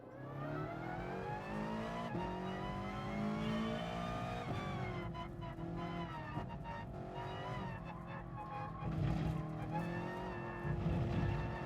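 Race car engine in the video game Gran Turismo Sport, revving loudly and climbing through the gears with shifts and tire squeal, continuous throughout with no talk.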